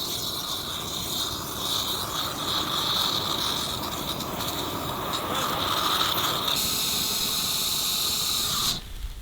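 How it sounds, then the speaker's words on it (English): Bacon grease burning in a fire, a loud continuous hiss and crackling sizzle held steady for several seconds up close before cutting off abruptly near the end. "The bacon grease is on fire."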